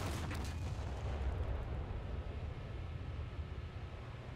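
The heavy cannons of the Graf Spee pocket battleship test-fire in War Thunder, a deep booming blast near the start that rolls out into a long, low rumble fading slowly.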